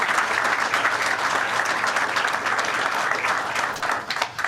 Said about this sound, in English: I think the governor deserves a great round of applause for his efforts on the third track.